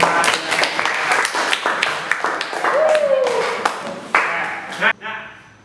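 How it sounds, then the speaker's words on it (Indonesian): Children in a sixth-grade elementary classroom clap together in a burst of uneven, rapid claps close by, mixed with chatter and a brief whistle-like tone before the clapping trails off. "Oke, tepuk tangan dulu dong untuk teman-teman."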